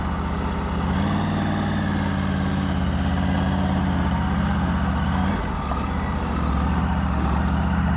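A Triumph Tiger 900 Rally Pro three-cylinder motorcycle engine running at a steady idle, a loud, close, even low drone with a constant throb that holds for the whole stretch.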